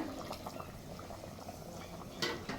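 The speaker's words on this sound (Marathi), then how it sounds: "आता हे गरम पाणी ह्यामध्ये घालूया" Hot water poured into a pot of Aagri-style mutton paya gravy, a steady soft liquid rush with light bubbling throughout and a brief louder splash near the end.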